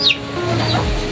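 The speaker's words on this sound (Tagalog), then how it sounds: "Ganyan kababait ang manok." A chicken on a free-range heritage farm gives a short, close, fairly loud cluck that ends in a lower, drawn-out squawk, heard alone without talk.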